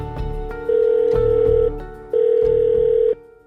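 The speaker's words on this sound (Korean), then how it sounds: "고객이 전화를 받지 않아 삐 소리 이후" An unanswered phone call's ringback tone repeats twice, each long steady electronic beep followed by a pause, clear and close with faint background hum.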